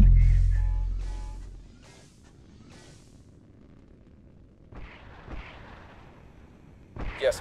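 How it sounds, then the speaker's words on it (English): A missile launches in the space combat video game Nebulous, starting with a loud low boom that fades over about two seconds, followed by quieter game sounds and a few short bursts near the end. "Missile launched."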